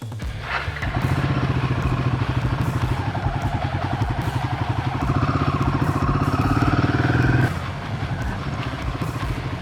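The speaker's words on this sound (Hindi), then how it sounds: "ऐसा लग रहा है बाइक के साथ टॉर्चर हो रहा है, सही टाइम पे गियर ना शिफ्ट करके।" A Royal Enfield Himalayan 450 engine labours steadily, climbing slightly in pitch when gears are shifted poorly, then drops off sharply near the end; the close, dense drone runs for several seconds.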